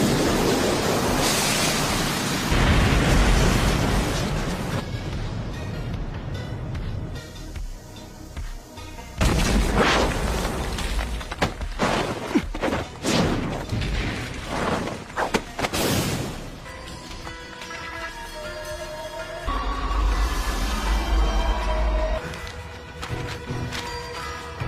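Anime-style fire jutsu explosion effect from a Naruto-themed fight, with booming, rushing blasts and crackling bursts that rise and fall over about twenty-five seconds, loud and dense, with no talking.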